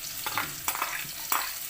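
Onions and garlic sizzle and fry in a pan, a close crackling hiss broken by a few quick stirring scrapes.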